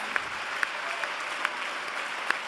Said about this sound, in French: vos applaudissements viennent de le confirmer